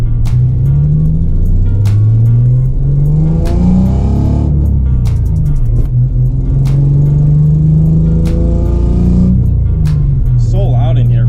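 A Nissan 300ZX Z31 engine drones loudly inside the cabin while drifting, its pitch rising and falling as the car accelerates and eases off, with clicks and thumps and someone talking over the rumble.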